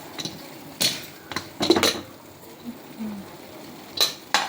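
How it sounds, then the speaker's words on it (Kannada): A pressure cooker lid is opened in a home kitchen with a few sharp metallic clanks and clinks, spaced irregularly between quiet pauses and heard up close. "ಇಲ್ಲ ಮಮ್ಮಿ ಢಕ್ಕನ್ ತೆಗಿಲತ್ತಾರ ಕುಕ್ಕರ್ದು."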